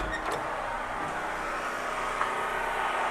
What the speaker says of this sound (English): That's the generator,